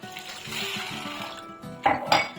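Moong and chana dal lentils being rinsed in water in a home kitchen, with soft sloshing and swirling followed by two brief, louder splashes and clinks against the vessel near the end.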